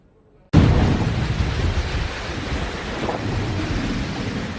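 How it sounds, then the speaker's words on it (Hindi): Cyclone Nisarga's storm roars in abruptly after a brief quiet moment, a loud continuous rumbling wash of wind and heavy rain that holds steady without pause. "ये खौफनाक आवाज तूफान की दस्तक है।"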